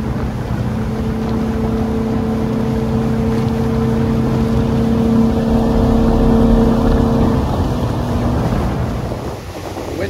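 Motorboat cruising across Gulf of Mexico water near Clearwater, its engine droning steadily and loudly with wind buffeting the microphone and water rushing past the hull throughout.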